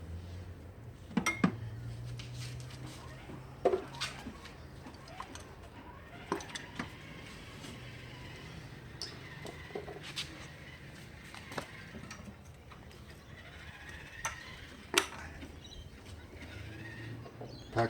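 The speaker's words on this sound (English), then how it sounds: "And then you can pull off all the individual coil packs." Toyota ignition coil packs being pulled off one by one, giving scattered sharp plastic clicks and clinks over a low engine-bay background hum, close and moderately loud, with no talking.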